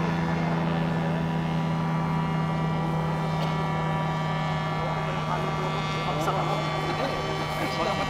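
An aircraft comes in to land, heard as a loud, steady engine drone with a constant low hum throughout, while people's voices mix in underneath.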